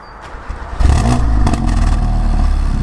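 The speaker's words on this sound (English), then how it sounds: "we're gonna start the engine, show you what it sounds like" A car engine cranks and catches at close range. Its loud idle then settles into a steady, slightly clattery running note.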